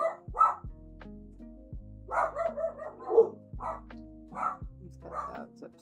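Upset dogs bark in repeated sharp bursts at a distance, several yips and barks spaced by short gaps, faint against a quiet room background with a low hum.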